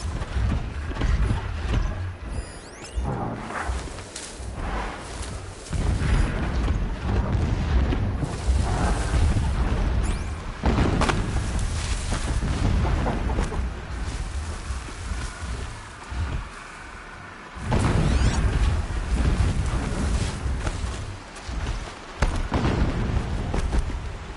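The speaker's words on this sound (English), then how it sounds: "explosions in the distance. Pay that no mind." Distant explosions in the Horizon Zero Dawn game world come as deep, rumbling booms, one after another, over a steady mechanical drone and wind. No one speaks.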